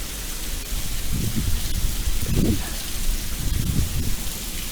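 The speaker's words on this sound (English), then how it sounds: "It's raining out there." Steady rain falls on a river around a kayak during fishing, a continuous dense hiss with faint low rumbles underneath and no voices.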